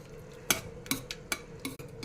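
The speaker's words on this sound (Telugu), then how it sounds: "ఇంకా తాలింపు సామాన్లు వేసి చూపిస్తాను, చూసేయండి." Tempering spices being stirred in a hot pan for a dal and tomato dish, heard as a spatula scraping and knocking against the metal in a loose rhythm of about five distinct strokes over a faint background, with no voices.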